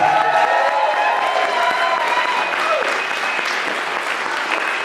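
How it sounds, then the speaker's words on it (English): An audience at a poetry slam festival finals stage applauds and cheers for volunteers, with loud sustained clapping, scattered whoops and a few shouts throughout. "please applaud all our volunteers for walking this whole thing."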